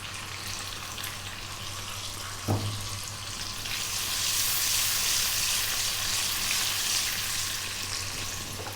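Cumin seeds and fresh curry leaves hit hot oil with a brief pop, then a steady sizzle that swells louder and holds, close and alone.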